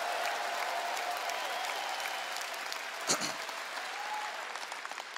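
A church congregation claps steadily throughout, a continuous fairly soft wash of many hands with a single sharper burst near the middle and no break.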